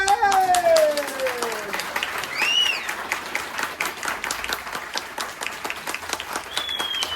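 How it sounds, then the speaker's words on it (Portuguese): Audience applause at a Brazilian comic book launch event, a burst of clapping from a gathered crowd that is loud at first and then tapers off, with a few voices and stray sounds mixed in. "uma salva de palmas de novo!"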